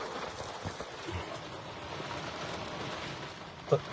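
Rain patters steadily on a car, a close continuous hiss of drops on the body with one brief louder tap near the end and no voices.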